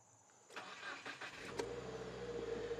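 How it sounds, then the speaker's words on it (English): A 2019 Subaru WRX engine cranks briefly with a few quick pulses and then catches, settling into a steady near idle after an oil change. "we start the engine up and the oil pressure light immediately goes out."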